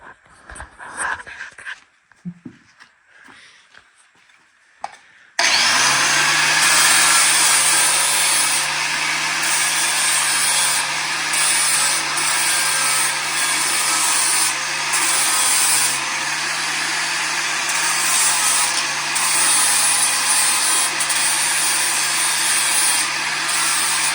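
Steady, loud power-tool grinding on metal, taking burrs off before welding; it starts abruptly after a few seconds of quiet handling noise and then runs continuously with no break.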